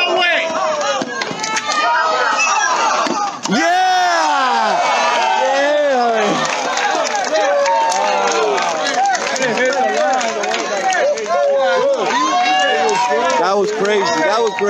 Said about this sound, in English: The crowd is going crazy over here.